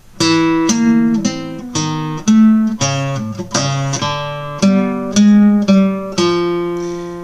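A twelve-tone row: twelve separate sustained notes on a bright, organ-like keyboard tone, played one after another at an even pace without any rhythmic pattern.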